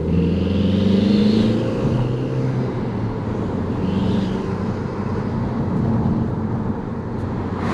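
Audi TT engine pulling hard under acceleration, a loud, steady drone of engine and road noise that swells slightly near the start and holds on with little change.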